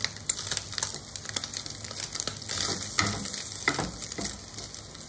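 Turkey bacon sizzles and crackles steadily in a frying pan, a dense close hiss with scattered pops running throughout without talk.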